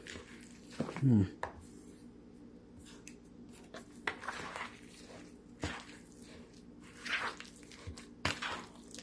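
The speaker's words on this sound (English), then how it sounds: "Okay, stirring it up" Healthy gluten-free cookie batter is stirred in a bowl, producing soft, sporadic squishing and scraping strokes that come and go quietly, close by.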